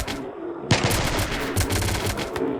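Gunfire in the video game RimWorld comes as rapid bursts of automatic shots, loud and dense, with a short pause before the firing resumes.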